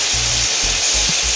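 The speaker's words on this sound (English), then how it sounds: "all our tomatoes and all these things are frying away" Tomatoes sizzle in a pan for butter chicken with a loud, steady frying hiss. Low bumps of stirring or pressing sound underneath.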